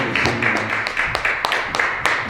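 A church congregation claps in steady rhythmic unison, close and bright, with crisp repeated hand strikes filling the space and a faint voice underneath.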